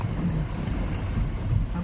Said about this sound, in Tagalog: Lakas agos tubig.